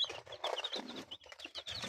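Busy, high-pitched chirping and peeping from many four-day-old hybrid chicks, continuous and close, with soft clucking mixed in.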